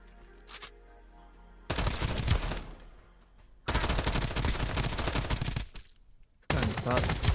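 Bursts of gunfire from the video game Duckov: three loud, sustained volleys of rapid shots, each lasting one to two seconds, separated by short quieter gaps, with a faint single shot near the start.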